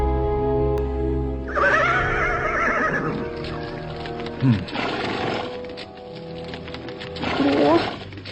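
Horse neighing loudly in a dramatized period scene, a long whinny followed by a short snort and another rising neigh near the end, with spoken dialogue around it.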